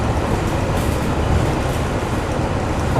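Parking lot trams at Magic Kingdom rumble steadily nearby, a continuous low rolling drone of wheels and motor with no clear breaks, wrapped in outdoor crowd and traffic noise.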